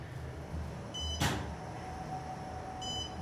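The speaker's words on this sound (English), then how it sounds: "I just heard a door bang" A single loud thud of a door banging somewhere in a building with 2008 Otis Gen2 traction elevators, striking once near the middle amid steady machine hum, with faint electronic chimes before and after.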